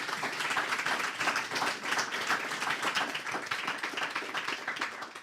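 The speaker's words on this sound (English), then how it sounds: "Give yourselves a round of applause." A live audience at a panel Q&A event gives a steady round of applause, dense overlapping clapping that holds at an even level for several seconds, moderately close.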